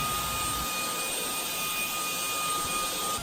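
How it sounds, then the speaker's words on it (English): A Jimmy JV51 cordless stick vacuum cleaner runs with a steady, loud, close whine and rushing airflow, with no voices. "I also liked how it vacuumed up my stairs"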